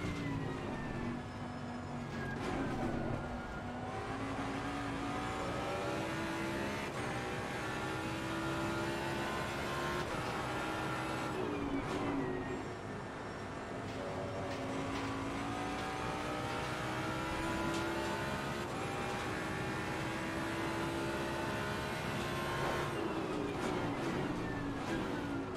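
A race car engine in Assetto Corsa Competizione drones steadily through gear changes, its pitch rising and falling with acceleration and shifts, loud and continuous from a first-person driving view.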